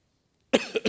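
After a brief silence, a person coughs once up close, a sharp burst followed by a couple of quick raspy bursts.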